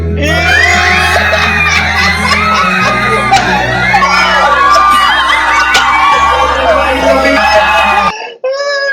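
A live studio audience at a Filipino reality show shouts, screams and cheers loudly and continuously for about eight seconds. The noise is dense and crowded, with excited whoops and children's shouting in the mix, and it cuts off abruptly near the end.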